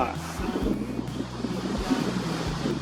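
Strong wind buffets the microphone at a beach campsite in Sattahip, a continuous rough, roaring rumble with surf-like hiss throughout and no clear voices.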